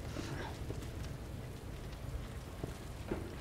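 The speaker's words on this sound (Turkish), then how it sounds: "Zehir zemberek bir yağmur yağıyor ya." Heavy rain in the Resident Evil 2 Remake video game, a dense, steady downpour hiss filling the whole clip with scattered louder drops and no talk.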